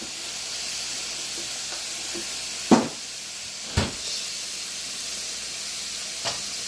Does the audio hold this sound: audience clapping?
no